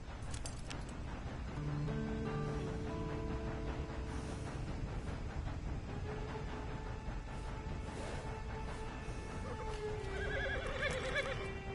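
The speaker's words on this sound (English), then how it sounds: "And you better get on this horse." Horse whinnies and snorts over a busy background of clip-clop hooves and ambient game music in Red Dead Redemption, steady and fairly close throughout.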